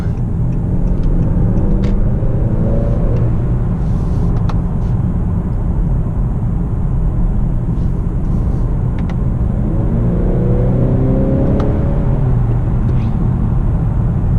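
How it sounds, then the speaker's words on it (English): A 2019 Honda Accord Sport with the 2.0-liter K20C4 turbo engine and 10-speed automatic, heard from inside while driving: a steady, loud low rumble of engine and road noise that swells slightly at times, with no talking. "the K20 C4 engine, the 2-liter turbo, 252 horsepower"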